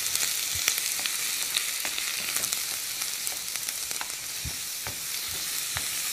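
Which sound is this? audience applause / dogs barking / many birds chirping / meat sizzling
meat sizzling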